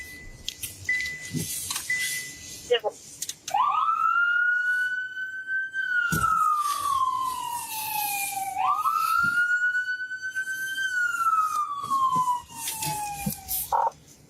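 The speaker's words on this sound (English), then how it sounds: "I'm about to hit the siren." A loud wailing police siren sweeping up and down in long slow cycles, close and continuous, with a few short whoops at the start.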